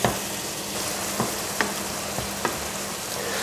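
Steady sizzling of a Thai dish with tomato sauce frying in a pan, with occasional clinks and scrapes of a utensil stirring it, close and fairly quiet, no talking.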